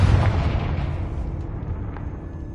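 A Confringo spell explodes in Hogwarts Legacy with one loud, close boom that rolls off into a long, fading rumble.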